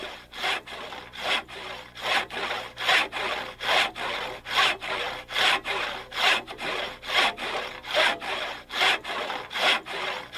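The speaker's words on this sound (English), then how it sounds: "There is a rhythm to the saw as its teeth eat back and forth into the deepening cut." A hand saw cuts dry spruce firewood in steady back-and-forth strokes, about fifteen rasping pulls in ten seconds, close and loud with a regular rhythm.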